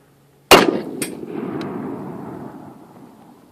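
A single gunshot strikes an AR500 steel armor plate with a sharp metallic clang, then a second, fainter ring, and a long echo that fades outdoors over a few seconds.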